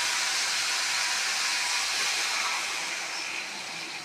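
Water poured into a pan of frying pumpkin and potato curry sets off a loud, close, hissing rush of sizzle and steam that starts at full strength and slowly eases off over a few seconds, with no talking.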